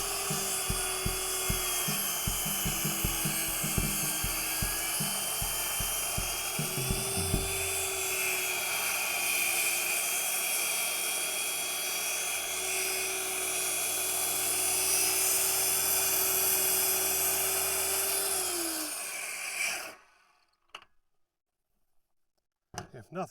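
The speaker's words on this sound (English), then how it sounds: "A little bit of whittling with the skill saw." Circular saw cutting a hemlock board outdoors, with hammering taps at first, then a loud whining drone as the blade bites, its pitch dropping under load before the saw stops abruptly.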